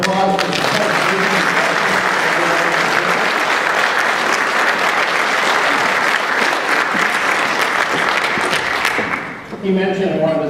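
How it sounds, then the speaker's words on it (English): Sustained loud applause from an audience honoring a university chancellor at an assembly, dense and steady throughout, with voices audible at the start and end before it fades. "Please give our chancellor another round of applause."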